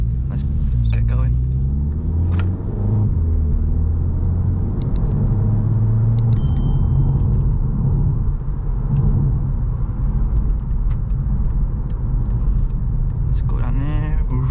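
A Volkswagen Scirocco on the road, its engine giving a steady low rumble with tyre and road noise from inside the cabin, while someone talks over it.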